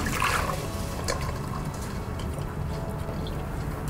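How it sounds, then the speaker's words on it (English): Soaked rice being drained through a sieve for Japanese garlic butter fried rice, giving a steady close trickle and dribble of water running off, with faint wet rustling throughout and no talking. "Now, you want to drain the rice."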